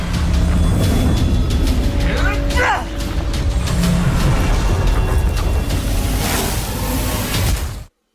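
An explosion in an animated fight scene, heard as a loud, dense roar of rumbling noise with whooshing sweeps that holds steady for about eight seconds before cutting off abruptly.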